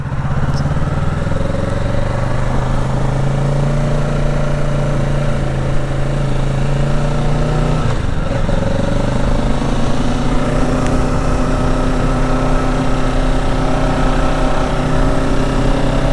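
A green Kawasaki Ninja 650 motorcycle cruises in third gear on a hot day, its engine droning steadily and close throughout, with a constant hum and rushing wind noise and no clear gear changes.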